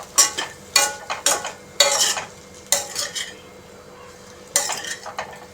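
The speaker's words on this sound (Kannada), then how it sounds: "ಚೆನ್ನಾಗಿ ಮಿಕ್ಸ್ ಮಾಡಿಕೊಳ್ಬೇಕು" Sabudana upma being stirred with salt in a pan, a utensil scraping and clinking against the metal in irregular bursts of strokes, close and fairly loud with short pauses between.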